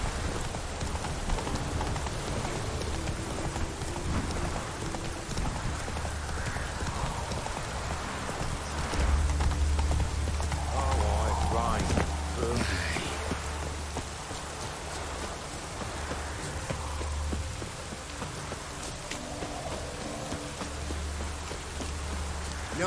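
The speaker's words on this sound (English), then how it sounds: "No use doing any work in this rain." Steady rain pours down in The Witcher 3 game world, a constant hiss with horse hooves clip-clopping on wet ground and low ambient rumble underneath throughout.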